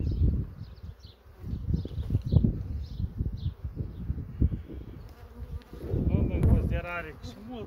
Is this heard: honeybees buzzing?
yes